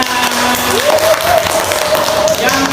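Children in a classroom clap their hands together in a dense burst of applause, with a sung or spoken voice running over it throughout.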